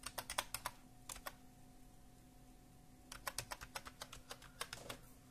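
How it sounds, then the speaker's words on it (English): A key on a Dell Vostro 3471 computer keyboard is pressed at boot, making rapid faint clicks in two bursts with a pause between them over a steady low hum. "now push the power button and press F2 on the keyboard"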